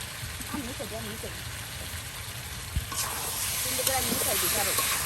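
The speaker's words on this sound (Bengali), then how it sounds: "দেখুন কত সুন্দর করে কিন্তু সব একসাথে কষানো বাজানো হচ্ছে" Potatoes are stirred into spiced duck meat in a pan, cooked village style, giving a steady sizzling hiss throughout while a person talks over it continuously.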